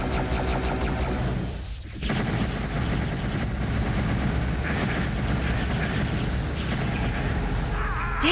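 Continuous rapid weapon fire from the dark fantasy shooter Heretic, a dense rattling barrage that runs nearly the whole time with a brief dip early on, loud and steady with no talking.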